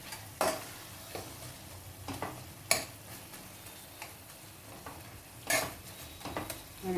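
A dried shrimp and tomato curry in Telangana style is stirred in a pan, with a gentle sizzle under a few sharp scraping knocks of the spoon against the pan, spaced out and fairly close.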